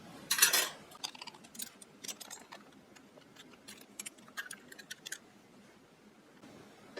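Stainless steel Oneida flatware, including grapefruit spoons, clinks and rattles while being unboxed, with a bright jangle at the start followed by scattered light metallic taps, close and fairly quiet.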